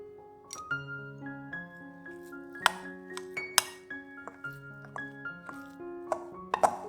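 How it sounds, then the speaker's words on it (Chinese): A spoon stirring vegetarian wonton filling of flour, cornstarch, salt, pepper, five-spice and vegetarian oyster sauce in a bowl, striking the sides in a run of bright ringing clinks with soft mushy stirring between, close and clear. "用汤匙搅拌均匀"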